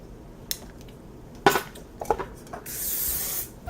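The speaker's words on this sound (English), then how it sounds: "gonna spray underneath too" A few clicks and handling knocks, then a sustained hiss of aerosol hairspray lasting about a second, close by, with no talking.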